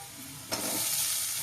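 Garlic and onions sizzle steadily in a hot pan, with a sharp burst of hiss as the onions hit the oil, then a continuous bright frying crackle with no talk.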